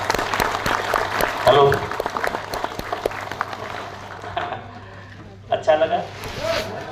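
Seminar audience in Ahmedabad claps hands in a scattered, uneven patter that tails off, while a speaker talks and a few sharp claps and rustles break through near the end.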